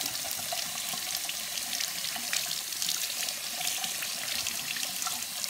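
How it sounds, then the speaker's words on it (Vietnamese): Steady rush of tap water running over a Lumi Spa facial cleansing device being rinsed at a sink, a continuous close hiss and splash with slight fluctuations throughout, no speech. "Còn xong thì anh chị cứ cho nó vô trong cái vòi nước anh chị rửa."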